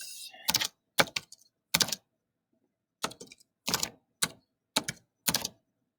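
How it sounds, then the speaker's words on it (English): Numbers being typed on a classroom computer keyboard: short bursts of crisp key clicks in quick clusters, separated by brief silences, close and fairly loud with no voices. "I'm just typing the numbers in."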